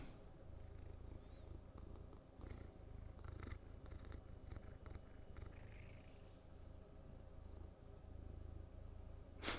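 A badly behaved cat purrs steadily and close by, a continuous low rumbling throb that runs the whole time with no talk over it.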